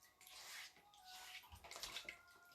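Water sloshing and splashing in a small bath of plain warm water with no soap, while a board eraser scrubs through a screen; close, continuous wet swishing with brief louder splashes.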